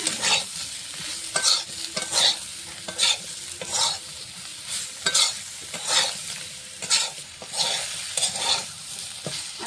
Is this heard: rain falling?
no